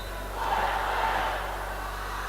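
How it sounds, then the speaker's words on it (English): Crowd of university supporters cheering at an indoor table tennis match on a sports court, a broad swell of distant voices that rises and then holds steady. "So just hear the Mona contingent cheering on their team."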